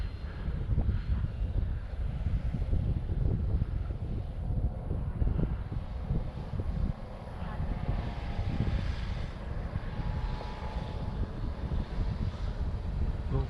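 Electric motor of an E-flite Piper Cherokee RC model plane flying in a crosswind at Eastgate Air Park, a steady distant buzz rising and falling with throttle amid gusty wind noise.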